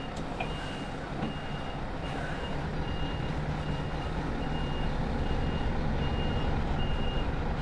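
Reversing beeps from a low-loader truck backing up in a straight line, a regular string of evenly spaced high beeps over a steady low diesel engine rumble.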